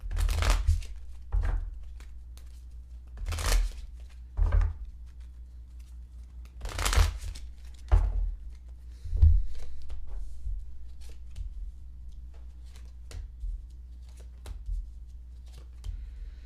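Tarot cards shuffled and pulled by hand in several brisk riffling bursts close up, with quieter card handling and soft flicks in between, and no voices.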